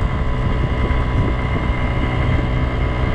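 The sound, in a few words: Kymco Agility 50 scooter riding uphill at top speed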